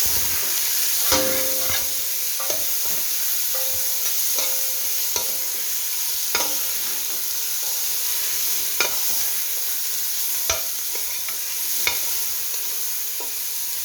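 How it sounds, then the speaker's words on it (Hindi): Vegetables stir-fried in a pan for restaurant-style fried rice, a steady sizzle punctuated by repeated sharp clinks and scrapes of a spatula against the pan, with no talking. "अब इसमें मैं डालूंगी वेजिटेबल्स। और इसको मैं फ्राई करूंगी।"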